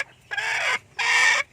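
A chicken gives two loud, drawn-out clucking calls close by, separated by a brief pause.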